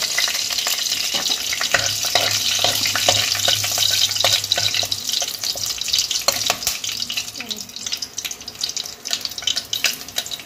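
Dried red chilli, bay leaf and whole garam masala spluttering in hot mustard oil in a kadai, a loud crackling sizzle with bursts of popping and occasional stirring, no speech.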